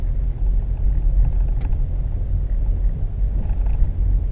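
Steady low engine rumble from a Subaru Impreza cruising along a road in Anchorage, Alaska, a continuous near drone heard alone with faint road noise.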